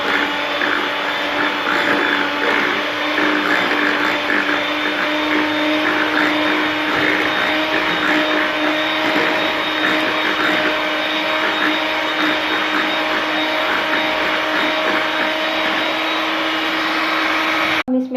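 An electric beater whirs steadily through cake batter being mixed at home for a fresh cream cake, a loud continuous motor drone with a constant pitch that runs unbroken throughout and cuts off abruptly at the very end.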